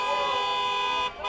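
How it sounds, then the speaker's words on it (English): Car horns honk on a street during a No Kings protest rally in Fort Lauderdale, a sustained blaring tone holding steady for over a second before cutting off, with faint street noise beneath. "From honking on the street"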